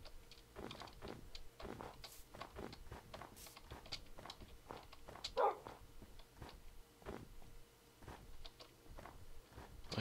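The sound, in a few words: dogs barking in a video game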